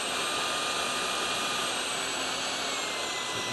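Steady, unbroken motor whine with a hiss of suction from a Riccar R65 cordless stick vacuum cleaner, running alone at an even level.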